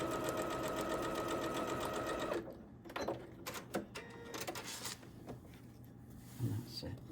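A sewing machine stitches a Starry Night quilt block in a steady, close whir for about two seconds, then stops, followed by soft fabric handling and small clicks.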